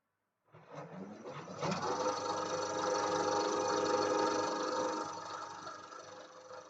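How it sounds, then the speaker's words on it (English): A single-phase AC machine runs under a Prony brake load, starting with a clunk and rising into a steady, dense mechanical whir and rattle that holds close and even before easing slightly near the end. "we're using the Prony brake to apply a variable load torque to the single-phase AC machine"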